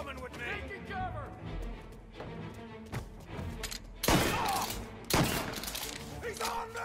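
Gunfire in the video game Mafia Definitive Edition, with loud bursts of shots and heavy impacts that break out partway through, over shouting voices and an ongoing busy game mix.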